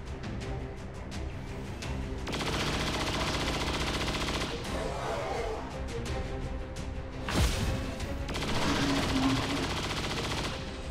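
A soldier fires a chain shot in XCOM 2, loud bursts of automatic gunfire in two or three distinct volleys with impact crashes between them, and no voices over them.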